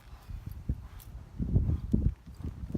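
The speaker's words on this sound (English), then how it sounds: "I always walk up and get off my horse in the alley." A horse walking in a rodeo alley, its hooves giving soft, uneven clip-clopping thuds up close over faint background.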